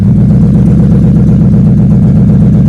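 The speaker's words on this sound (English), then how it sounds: "Cranks up, runs just like it's supposed to." A Ford F100 truck engine runs loud and close with a steady deep idling rumble, even and unbroken throughout.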